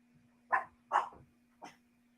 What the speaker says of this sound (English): had a small demon dog that was not sitting still